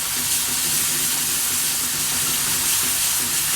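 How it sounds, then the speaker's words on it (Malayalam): Turmeric and salt stirred in a hot frying pan for Palakkad-style yam upperi, a dense, even sizzle with soft scraping stir movements, loud and close with no talking. "1/4 സ്പൂൺ മഞ്ഞൾപ്പൊടി, ചേനയ്ക്ക് ആവശ്യമുള്ള ഉപ്പ്, നന്നായിട്ടൊന്ന് ഇളക്കുക."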